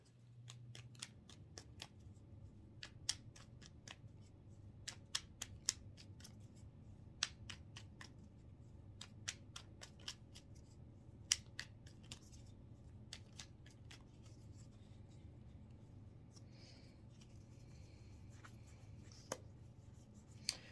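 Tarot cards are shuffled quietly during a reading, producing faint, scattered papery riffles and taps at an irregular pace over a low background hum.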